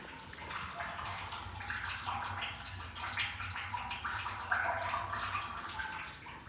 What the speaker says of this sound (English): we always have water going into the pump chamber, which indicates we may have a possible leak in the house